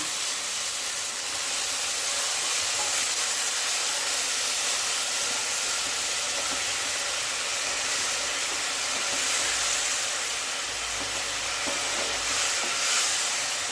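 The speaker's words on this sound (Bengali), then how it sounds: "এখন দিলে একটু জল" Water added to a pan of simmering egg curry gives a steady, loud hiss and sizzle that runs unbroken throughout, with no talking.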